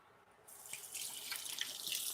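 Water starts running from a tap about halfway in and keeps pouring, a bright, steady hiss and splash as it fills, fairly close and without talk.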